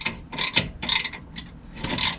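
A 3/8-drive ratchet wrench snugs a tow hook bolt on a Ram 1500 pickup, giving several close, bright bursts of rapid pawl clicking in a stop-start rhythm.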